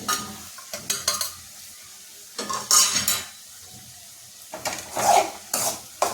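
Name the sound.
stirring spices into frying bombil dish in a pan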